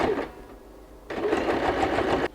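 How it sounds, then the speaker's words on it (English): Sewing machine stitching through layers of recycled denim for a jean handbag, running in a short burst, then pausing and starting again with a steady, close mechanical whir. "and I go and sew all the way through"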